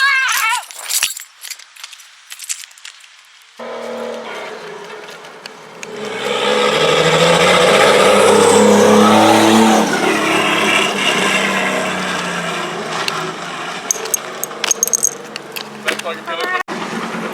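A Nissan 350Z fitted with a 1JZ engine runs under its own power, its engine rising from quiet into a loud, sustained roar and then holding a steady, rough running note close by, with people's voices mixed in.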